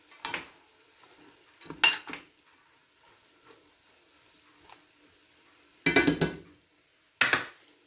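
Vegetables for a stir fry spaghetti are stirred in a pan, with a faint sizzle between sharp metal scrapes and clanks of the utensil against the pan, several distinct bursts at close range.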